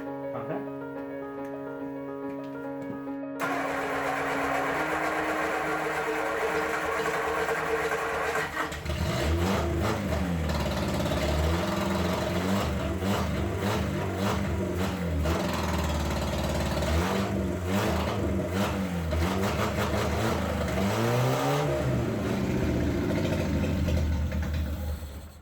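A 1960 Triumph Herald engine, seized after sitting for about 30 years, cranks and catches, then runs and revs loudly and steadily for over twenty seconds, close and continuous with no talk over it.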